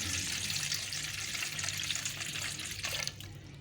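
A glass of water pours steadily onto sugar for homemade Rooh Afza syrup, a continuous splashing rush close by that tapers off near the end, with no talking.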